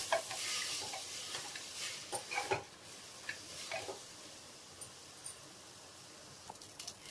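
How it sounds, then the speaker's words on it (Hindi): Rice being dry-roasted and stirred in a pan for soybean pulao, with a soft steady sizzle under scattered scraping and clinking strokes of a spoon, louder at the start and thinning to faint ticks later. "अब हम इसी में ये चावल डाल देंगे। अब इसको भी अच्छे से भून लेंगे।"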